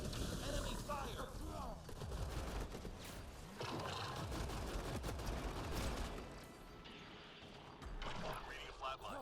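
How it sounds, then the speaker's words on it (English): Gunfire rattles through a Mass Effect: Andromeda multiplayer firefight, with bursts of shots, booms and mechanical clatter running throughout, loud and dense, under a character's shouted callouts. "Enemy fire!"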